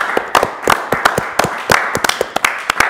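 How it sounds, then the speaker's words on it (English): A small group of people clapping close by, quick uneven claps in loose rhythm for a few seconds, with no talking. "Can we clap right now?"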